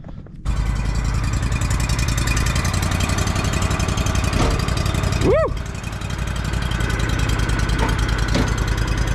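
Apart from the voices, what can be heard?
Walker lawn mower engine running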